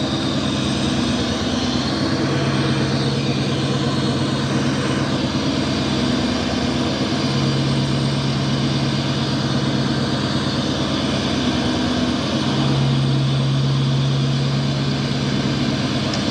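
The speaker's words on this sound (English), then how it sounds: "it's going into high idle here" An L5P Duramax diesel truck engine holding a steady high idle, a loud continuous droning rumble with a faint whine that stays even throughout, no talking.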